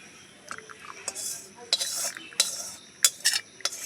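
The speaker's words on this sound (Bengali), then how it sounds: "এবারে বাটিটার মধ্যে ঢেলে নেব যে বাটিটা দিয়ে তেল দিয়েছি ওই বাটিটাই ঢেলে দিচ্ছি" Cooled herbal oil is poured into a metal bowl, heard as light metallic clinks and scrapes of utensil against the bowl, close and intermittent, with faint whispery sounds between.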